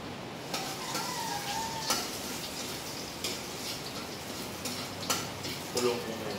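Food sautés in a pan in a home kitchen, sizzling steadily while a utensil scrapes and stirs, with occasional sharp clinks of metal against the pan.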